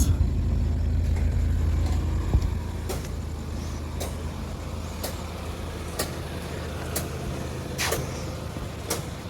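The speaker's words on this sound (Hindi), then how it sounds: "ये गाड़ी है अपनी इग्निस।" A Maruti Suzuki Ignis with a 1200 cc engine drives along a road, heard from inside as a steady low engine and road rumble, with periodic light clicks and knocks over the continuous drone.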